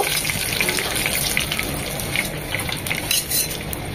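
Chicken pieces being fried a second time for a Chinese combo meal, giving a steady, close sizzle and hiss of hot oil with light crackles throughout, and no talk.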